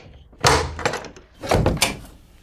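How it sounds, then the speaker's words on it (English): A shop's front door swings open with two heavy wooden thunks about a second apart, close and loud in an otherwise quiet room. "the shop's front door slowly swung open"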